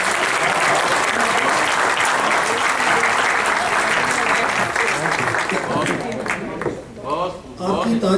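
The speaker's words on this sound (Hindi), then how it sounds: "आपकी तालियों से आपकी पसंदीदगी का पता चल रहा है।" A crowd at an international mushaira and kavi sammelan, a poetry recital, breaks into loud, dense applause that holds steady for several seconds, then tapers as a voice begins to speak over the fading claps.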